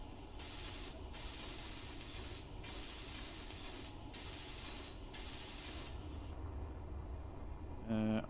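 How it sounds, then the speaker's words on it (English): Welding tool at work in the Space Engineers video game, a steady broadband hiss that runs in bursts with brief gaps, then stops, followed by a short bright electronic blip at the end. "I'll just quickly weld this up and see how it looks."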